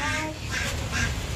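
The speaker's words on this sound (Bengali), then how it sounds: "ওই হাঁস" A duck quacks a few times close by in a rural yard with rain falling, short nasal calls over a steady wet background hiss.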